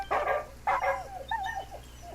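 A dog in the video game Genshin Impact gives a few short yips and barks followed by whining, whimpering calls, close and clear over a faint low background hum.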